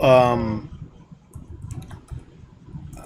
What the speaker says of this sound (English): I'm just typing a response in chat here.